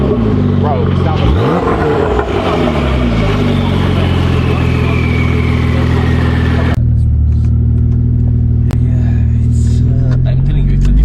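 A Porsche 992 Carrera 4S fitted with an Fi exhaust accelerates from the driver's seat, its rising engine note climbing through the revs before dropping into a deep, steady cabin drone, loud and close throughout.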